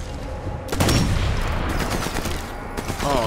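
Sniper rifle fire in the video game Sniper Elite 4: several loud, sharp shots and booming reports in quick succession, with a voice speaking briefly at the end.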